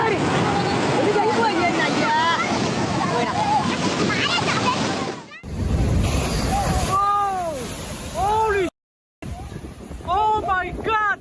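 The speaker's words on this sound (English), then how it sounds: "The rough seas off Kerala, India, were strong enough to overturn a boat" Loud, churning roar of rough cyclone surf and wind off Kerala, India, steady and close, broken by sharp cuts, with shouting voices rising over the crashing water.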